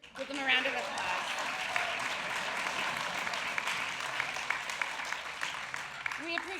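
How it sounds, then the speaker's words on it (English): Sustained audience applause at an evening benefit event for an immigrant English-learning program, steady clapping throughout with a few voices briefly audible near the start and end. "Give them a round of applause."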